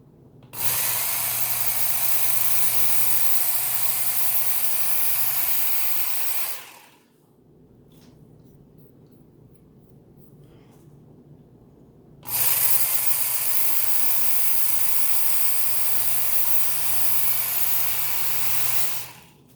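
A Work Sharp Ken Onion Edition knife sharpener on its coarse belt, grinding a blade in two long runs of steady, loud motor whir and belt hiss separated by a quieter pause with faint ticks.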